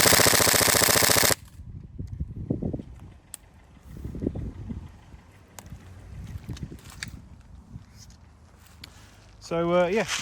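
Tokyo Marui MP5SD6 Next Gen airsoft AEG firing a sustained full-auto burst, a dense loud mechanical buzz for just over a second at the start, then quiet handling noises with faint speech.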